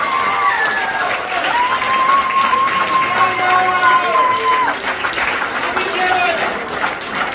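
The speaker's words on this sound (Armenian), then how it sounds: "Եկեք բարձր, շատ բարձր ծափարենք մեր բոլոր վիրավոր զինվորներին։" An audience applauds wounded soldiers at a combined engagement and birthday celebration, a loud, dense wash of clapping filling the room while someone speaks over it and a sustained musical tone runs beneath.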